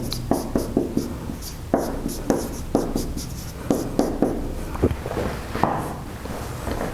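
Chalk or marker strokes on a lecture-hall board during a university class, a series of short, distinct taps and scrapes in irregular bursts, fairly close and clear with a low room hum beneath and no talking.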